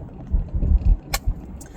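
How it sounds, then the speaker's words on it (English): A car drives slowly on a road, its low engine and tyre rumble swelling and fading close by, with a brief click and light traffic noise behind it. "This car is going really slow"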